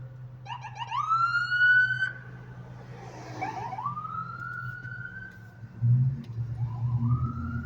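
An emergency siren wails in repeated rising sweeps, moderately distant and steady over a low engine rumble, passing without speech.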